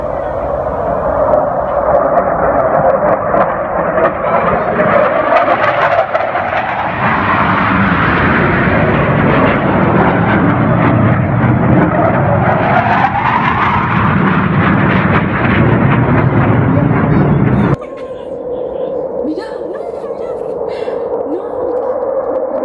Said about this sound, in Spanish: los aviones de combate A-4 que sobrevolaron Ushuaia y dejaron un sonido ensordecedor a su paso